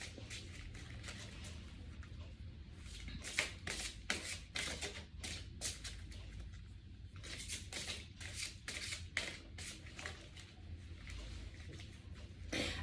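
A deck of tarot cards is shuffled by hand, giving a long run of soft, quick riffling and flicking bursts in uneven clusters, faint and close against a low steady hum, with no talking.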